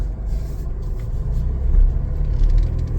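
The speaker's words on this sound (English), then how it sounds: "Take it for a little test drive here." A 2021 Chevrolet Traverse LT with about 40,000 miles on a test drive gives off a steady low cabin rumble of engine and road noise that swells slightly as it rolls along, with no talking.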